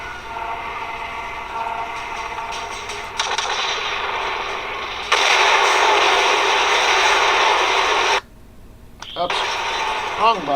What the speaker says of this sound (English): Kane, hop in the cannon and see if you can't blow open the door to the access corridor